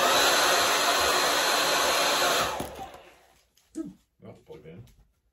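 A loud, steady hair dryer blows for a couple of seconds, then winds down and stops, followed by a person speaking nearby.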